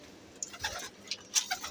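Racing pigeons in a loft making soft cooing and fluttery bird calls, a few short faint coos and chirps over quiet background, close by.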